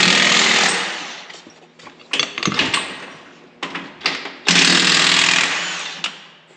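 Power tool work in a repair shop as bolts are removed from a panel, loud sustained buzzing bursts broken by short gaps and smaller rattling hits, close by with no talking.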